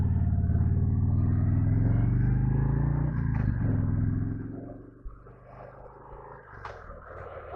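A motorbike engine drones loudly as the rider gears down approaching a junction, then the pitch drops and the revs fall away, leaving a quieter, uneven rumble with small bumps near the end.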